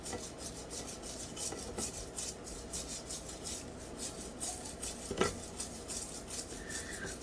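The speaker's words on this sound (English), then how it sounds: "And we'll just start scrubbing away." A brush scrubs an acetone cleaning mix over a water-damaged circuit board from a C5 Audi A6 4.2 transmission control unit, giving a close, steady, rhythmic rasping of quick strokes with one brief sharper knock partway through.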